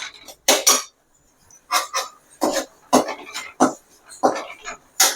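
Vallarai greens are sautéed in a pan for soup: a spoon or spatula clatters and scrapes against the metal in a run of loud, close, uneven strokes separated by brief pauses.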